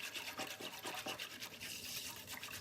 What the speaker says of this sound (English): And you just keep whisking.